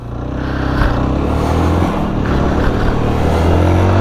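A ZONTES 350D motorcycle in Singapore pulls hard off the line, its loud, close engine building into a steady, strong drone with no voices.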